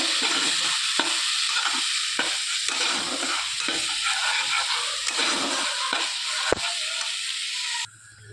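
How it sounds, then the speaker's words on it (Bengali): A paste of onion, ginger, garlic and green chilli frying in a pan with a splash of water, a loud, steady hiss and sizzle broken by regular stirring scrapes, ending abruptly near the close. "দিয়ে ভালো করে কষিয়ে নেব"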